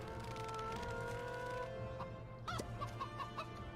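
Hen clucking in the LEGO The Lord of the Rings video game, a few short clucks and squawks near the end over steady game music and background sound.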